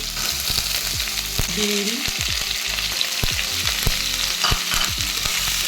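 Chopped potatoes, cauliflower and egg fry in ghee with a steady loud sizzle, punctuated by repeated scrapes and clacks of a spatula stirring in the pan.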